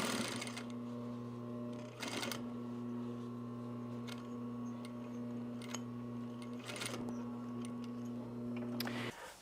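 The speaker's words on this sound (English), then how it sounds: "you can do this by pivoting everything through and then sewing forward a second time" A sewing machine runs steadily up close, stitching a shoulder bag strap with a constant mechanical hum broken by a few brief louder clicks as the work is pivoted and sewn forward again.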